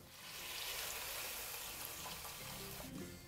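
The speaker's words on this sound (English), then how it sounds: "Now we'll add in water, just enough to cover the ribs." Water is poured into a pot of pork ribs for Chinese braised ribs, making a faint, steady, hissing splash that lasts the whole moment.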